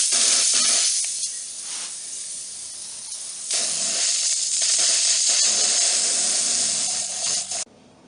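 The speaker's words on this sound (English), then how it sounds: "The pipe frame is painted with spray paint." Spray paint hissing from an aerosol can onto an assembled metal pipe frame for a round table, a steady close spray in several long bursts with brief pauses between them.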